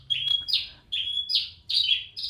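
A young songbird chirps nearby in four bright, sweeping calls at an even rhythm, clear and loud over a faint low hum.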